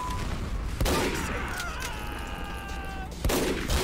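Gunfire in a Team Fortress 2 match during a Smissmas holiday event: sharp, loud shots at about 0.8 and 3.3 seconds over a busy, dense game mix with ringing tonal effects between them.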